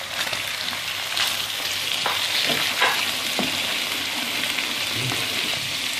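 Chicken is frying with onions in a pan, giving a steady, close sizzle and crackle with a few stirring clatters and no talk.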